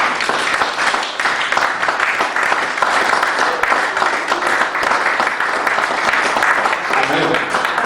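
A church congregation applauding together in sustained, dense clapping that fills the room at a steady level throughout, with voices mixed faintly into the crowd noise.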